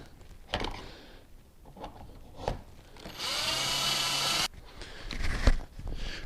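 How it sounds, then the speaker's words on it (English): A power drill whines steadily for about a second near the middle, close and loud, between scattered knocks and handling noises, while drilling a hole to mount a rod holder on a Porta-Bote folding boat. "we'll go ahead and drill the second one"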